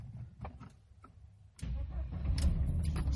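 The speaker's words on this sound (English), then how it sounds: "So let me turn on the car quickly. Original key. You will see how quickly it starts." Crank and start of a 1997 Mercedes-Benz W124 E220 automatic on its original key: a brief starter whir, then the engine catches at once and settles into a steady idle close by.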